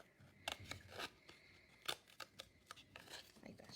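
Scissors snip through paper while a small square is cut out for a lighthouse craft, a series of close, quiet, irregular cuts and rustles with short pauses between them.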